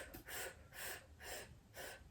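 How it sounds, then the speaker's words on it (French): Breath of fire done through the mouth: four forceful, rhythmic breaths, each a broad rushing whoosh, close and loud, in a steady pulsing pattern with no talking. "on fait cette fameuse respiration du feu que l'on vient de voir, mais cette fois-ci par la bouche"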